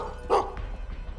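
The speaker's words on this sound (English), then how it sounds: "Dog?" A single short dog bark from the video game Gestalt: Steam & Cinder, one clear yelp standing alone over a low ambient background.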